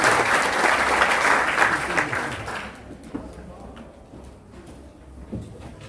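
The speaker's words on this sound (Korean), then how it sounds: "큰 박수를 부탁드립니다" An audience at a political book-launch talk concert claps loudly as speakers are welcomed onto the stage. The applause holds strong for a few seconds, then fades into scattered rustling, chair noises and murmuring.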